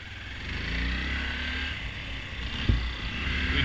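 A Honda Grom motorcycle engine drones steadily close by as the rider sets off, its pitch shifting slightly under a constant hum, with a brief knock near the end.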